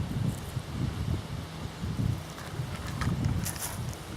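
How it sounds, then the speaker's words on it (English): Outdoors beside a small campfire, wind buffets steadily in low, gusting rumbles, with faint rustling mixed in throughout. "you can see how the wind is swirling"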